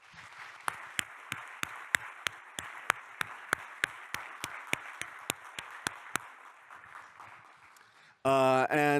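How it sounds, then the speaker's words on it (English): A conference audience applauds its speakers with soft, diffuse clapping punctuated by sharp, evenly spaced nearby claps, fading off before a voice begins talking at the very end. "can we give a round of applause for all of our speakers from today"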